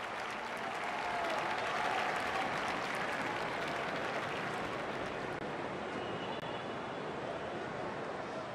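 A stadium crowd claps and cheers in Don Bradman Cricket 14 during a T20 match, a dense, sustained wave of applause that swells and then gradually eases, with no voices on top.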